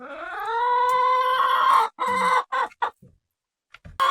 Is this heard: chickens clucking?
yes